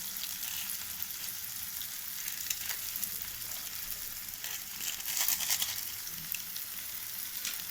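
Maggi noodle masala sizzling with softened tomatoes in a pan, a steady close frying hiss with occasional crackles and stirring scrapes throughout, no talk.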